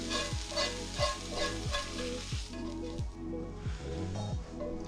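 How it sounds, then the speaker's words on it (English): Cooked mushrooms and leeks tossed with sausage in a bowl, producing a steady series of wet squishing, stirring strokes in a regular rhythm, close and fairly loud, with no talking. "we're going to kill the heat and add this to our bowl of sausage"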